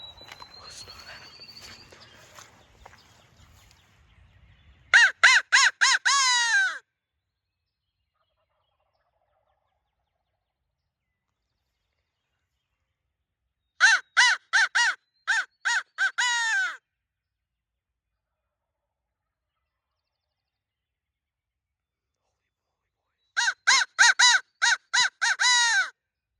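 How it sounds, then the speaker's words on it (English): Wild turkeys gobble in three separate bursts during turkey season, each a rapid rattling series of calls carrying from a distance across quiet woods, with faint rustling and footsteps at the start. "there goes another bird gobbling"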